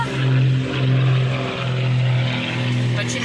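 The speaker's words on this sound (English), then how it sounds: "And airplanes." A propeller airplane drones overhead in a loud, continuous hum with slow swells in volume, heard alone without voices.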